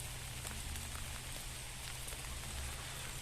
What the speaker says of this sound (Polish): Zobaczcie, jak leje w ogóle.